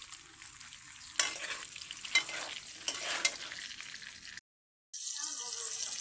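Eggs frying with salt and turmeric in a pan, a bright continuous sizzle with a few scraping stirs, cut by a brief silent gap before a softer sizzle resumes.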